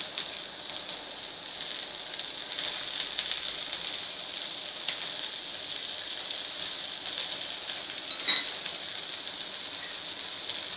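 Green moong dal vadya frying in oil in a pan, a steady soft sizzle and crackle running through the whole stretch with one brief louder pop near the end, no voices.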